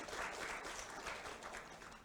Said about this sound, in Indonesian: Ketua Umum Iluni UI, Bang Andre Rahadian, tepuk tangan dulu untuk beliau.